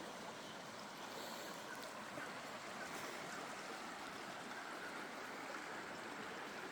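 A woodland stream in the Grampians, Victoria, feeding nearby waterfalls, rushes and gurgles in a steady, continuous wash of flowing water with no voices.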